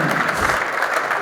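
Crowd applause at the 2024 Derby City Classic for two pool players after a 10-ball match, a steady dense wash of clapping filling the short stretch without pause.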